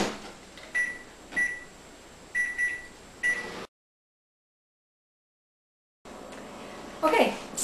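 A microwave oven cooking muffin-cup crustless quiches on high hums with a few sharp beeps as buttons are pressed, then the sound cuts out before resuming briefly.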